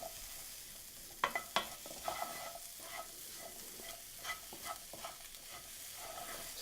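Onions and spices frying in a pan for a curried chicken and vegetable stew, a soft steady sizzle close by with scattered light clicks of a utensil stirring, quiet overall and without talk.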